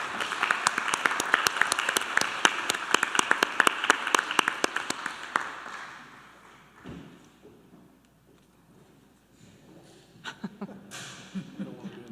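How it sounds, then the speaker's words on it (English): A school district meeting audience gives a leadership cohort a round of applause, crisp individual claps in a moderately sized room that fade out after about five seconds, followed by quiet murmuring and a few scattered thumps. "let's give these folks a round of applause."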